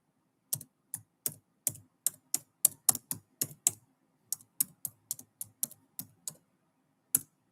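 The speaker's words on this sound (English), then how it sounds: "I know you guys hear me typing." Computer keyboard keys tapped in a steady run of about twenty distinct, crisp clicks, close and fairly quiet, with a short pause near the end before one last keystroke; no talking.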